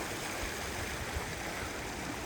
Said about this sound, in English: We walked past this little waterfall before